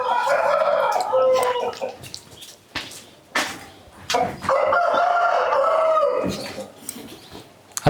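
Roosters crow loudly and close among clucking chickens on a large native country-chicken poultry farm in Karnataka, with several overlapping calls and a little background voice.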